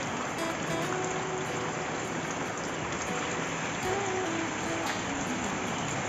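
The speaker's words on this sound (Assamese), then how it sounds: "বৰষুণ দি আছে চাওক" Steady rain falls outdoors in a continuous dense hiss, loud and unbroken throughout, with faint background sounds but no clear talk.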